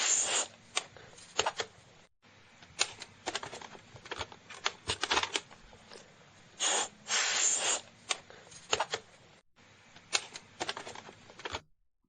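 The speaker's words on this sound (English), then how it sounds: "Blowing into game carts." Someone blows sharp, breathy bursts into video game cartridges, a series of hissing puffs in irregular clusters separated by brief silences, close and fairly loud, with no talking.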